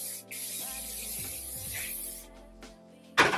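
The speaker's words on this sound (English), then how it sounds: "then you can just go in with a wee bit of hairspray" An aerosol can of hairspray is sprayed on hair, with a loud, close, continuous hissing burst lasting about two seconds, then a brief pause and a sharp short spray at the end.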